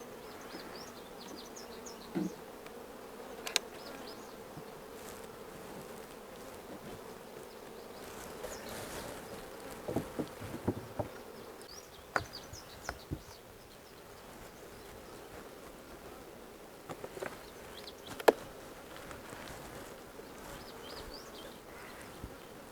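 A faint, steady hum of honey bees buzzing around an opened hive during an inspection, with scattered soft knocks and clicks from handling the frames.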